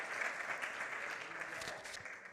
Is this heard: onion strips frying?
no